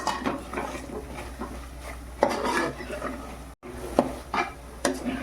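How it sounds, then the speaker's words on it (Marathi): Homemade masala is fried and stirred in oil for a spicy mutton curry, with scraping and clinking of a spoon against the pot in irregular strokes over a low sizzle. "मसाला पण आपण तेलामध्ये मारून घेऊ"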